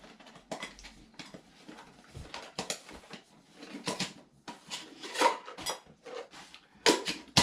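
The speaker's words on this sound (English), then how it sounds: "So we have a generic lightweight cup and bowl." A generic lightweight camping cup and 800 ml bowl from a cook kit clatter and clink as they are handled, giving a string of sharp metallic knocks and taps, some louder, spread irregularly over several seconds.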